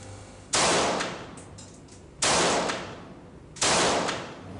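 Three loud, close gunshots from a Kalashnikov AK-47 assault rifle taken out of a freezer after nearly an hour at up to minus 50 degrees Celsius, each report cracking sharply and ringing out before the next, spaced irregularly.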